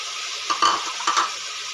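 Chopped onions, green chillies and beans go into hot oil in a pan, sizzling steadily with two short bursts of stirring and clinking utensils against the cookware, close and moderately loud.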